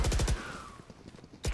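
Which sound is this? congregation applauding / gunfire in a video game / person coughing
gunfire in a video game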